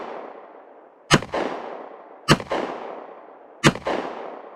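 Three loud, sharp gunshots from a handgun firing Norma Hexagon .45 ACP ammunition ring out about a second apart, each followed by a rolling echo as targets including a melon are hit outdoors.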